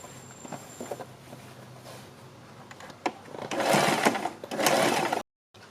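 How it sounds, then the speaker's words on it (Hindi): A sewing machine runs in short bursts while stitching a seam, with a steady whirring rattle that grows louder in two longer runs before cutting off abruptly. "हम इसके ऊपर यहाँ से यहाँ तक एक सिलाई लगा देंगे।"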